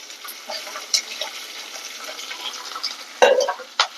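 Three sliced onions sautéing in a pan, a faint, gentle sizzle with a few soft stirring scrapes near the end, close by and without any talking.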